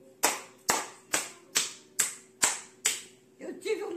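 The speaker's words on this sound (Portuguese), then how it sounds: "Quem tava com saudade das palmas, tá aí as palmas" A single person claps hands at home in a slow, evenly spaced series of seven sharp claps, close and distinct, followed by a short bit of rustling and a voice.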